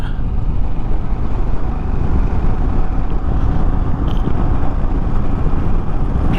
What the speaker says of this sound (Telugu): గాలి ఎక్కువగా ఉన్నది.